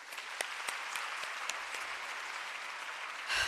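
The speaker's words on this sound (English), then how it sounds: "A round of applause for them, ladies and gentlemen." Audience applause at a women's leadership summit in KwaZulu-Natal, a steady, dense clapping from a large crowd filling the room throughout, with a brief louder swell near the end.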